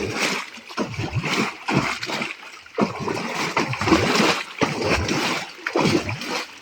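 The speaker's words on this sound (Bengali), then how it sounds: "এই নেট দিয়ে কিভাবে শিঙি মাছ তোলা হয়" A net sweeping through a biofloc fish tank to catch shingi catfish, with repeated splashes and sloshing water in rhythmic strokes, close and fairly loud.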